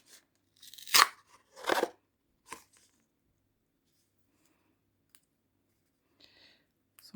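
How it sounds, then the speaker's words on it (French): Scissors or a blade cut through a cured silicone mould, giving a few sharp crunchy snips close up in the first seconds, then near silence broken by tiny clicks and a brief rustle. "Donc je vais commencer déjà par couper ici"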